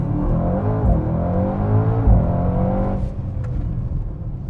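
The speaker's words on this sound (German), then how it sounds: "So, Launch Control brauche ich auf jeden Fall auch." A Mercedes-AMG GT 63 S 4MATIC+ four-door coupe launches hard using launch control, its engine roaring loud and close with rising, stepping tones, then easing off into a quieter rumble.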